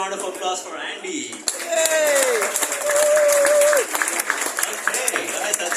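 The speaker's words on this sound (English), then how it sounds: "applause for Andy" A stand-up comedy night crowd in Koh Phangan applauds comedian Andy, a broad wash of clapping that swells and holds for a few seconds while a voice talks over it and a tonal ping rises above.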